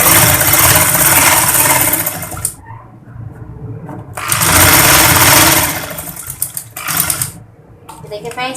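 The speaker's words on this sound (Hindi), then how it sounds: "ये देखिए, इस तरह से इस पर सिलाई लगाते जाएंगे।" A sewing machine stitches around the edges of a cloth surgical face mask, running in loud, fast bursts with brief pauses between them.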